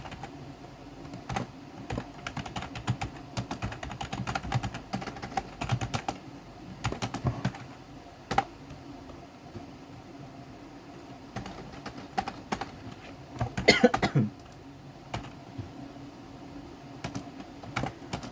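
Someone taps on a computer keyboard in scattered bursts of soft clicks with pauses between, close and fairly quiet, with a brief flurry of sharper keystrokes late on.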